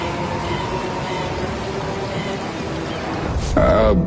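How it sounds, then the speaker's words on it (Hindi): Heavy rain falls in a steady, dense wash of noise across a village during a downpour, with a louder burst near the end. "बारिश अपने चरम पर थी"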